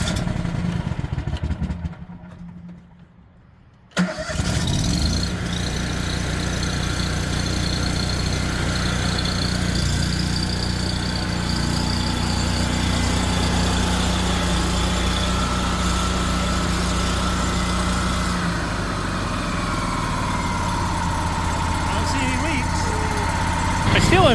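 Gasoline engine of a generator welder sputtering and catching after being choked, then running loud and steady close by for a long stretch, its throbbing drone continuous until the end.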